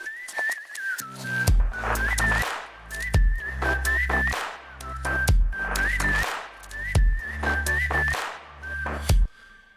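A whistled melody from a dance track drop repeats in short rising phrases, with a punchy clap and deep bass thumps landing on each beat. The pattern is loud, clean and rhythmic.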